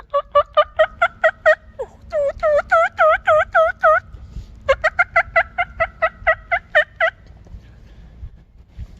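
Mouth-blown turkey call imitating a wild turkey gobble during a turkey hunt, loud rapid yelping notes in three rattling bursts that fade at the end, heard close with no talking.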